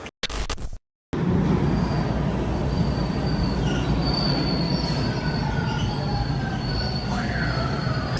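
Subway train wheels squeal loud and continuous in a Toronto metro station, a steady metallic screech over the rumble of the cars, after a brief burst of noise and a moment of silence at the start.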